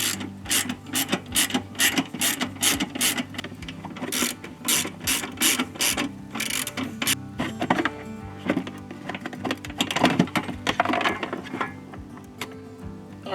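Self-tapping screws are backed out of a plastic RV battery box with a ratcheting driver, giving bursts of rapid clicking that stop and start, close up and without talk.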